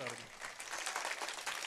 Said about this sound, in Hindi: ताली रुके नहीं जी, ताली बजती रहे, ताली बजती रहे